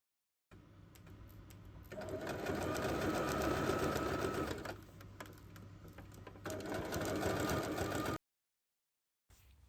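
A sewing machine stitches a small handbag with a rapid, close whirring clatter in two runs separated by a brief slowdown, then stops short before a final restart.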